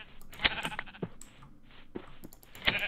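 Sheep in the video game Minecraft bleat several times in quick succession at moderate volume, close by.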